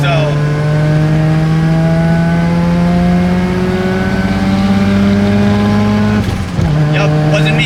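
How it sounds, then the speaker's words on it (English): A Mazda RX-7 driven hard on a wet mountain road, its engine droning loud and close with pitch climbing steadily through a long pull, then a quick lift and shift before the note resumes. "It was the other RX7 that was going maybe triple digits when it's wet on the mountain"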